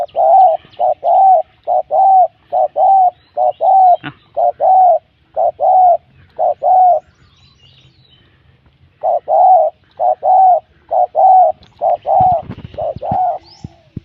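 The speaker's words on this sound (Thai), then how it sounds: "มีนกขันอยู่ตรงต้นยังอีก" A bird calls from a tree in repeated, evenly spaced cooing notes, loud and near. The calls pause for a couple of seconds mid-clip, then resume.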